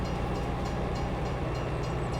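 A train in Farm Sim 22 rolls past with a dense, continuous rumble and rhythmic rail clatter, loud and steady throughout with no talking.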